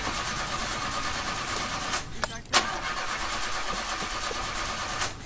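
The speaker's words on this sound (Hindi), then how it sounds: "यार गाड़ी स्टार्ट नहीं हो रही" Car engine cranking repeatedly but failing to start: a steady, grinding starter-motor whir with a few sharp clunks midway, fairly close and continuous, with voices nearby.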